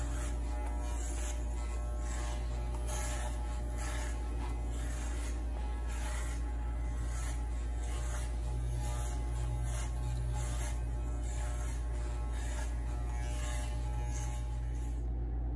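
Wahl Super Taper electric hair clipper with a number 4 guard cutting a fade, a steady low mains hum with rhythmic buzzing strokes as it passes through the hair, close and alone.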